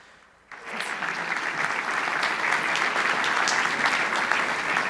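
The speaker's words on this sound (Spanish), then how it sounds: "También un aplauso para recibirlo." An audience at a Buenos Aires economics congress panel breaks into applause to welcome a panelist. After a brief quiet moment the clapping starts suddenly and continues steadily and fairly loud, with no voices over it.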